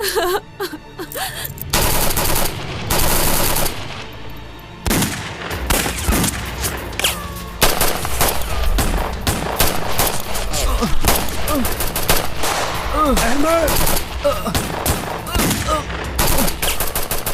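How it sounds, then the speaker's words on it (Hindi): Sustained machine gun fire in an Urdu TV drama battle scene, loud continuous bursts of automatic gunfire with overlapping shots and shouting voices mixed in throughout. "जो भी हो जाए तुम फायरिंग मत रोकना।"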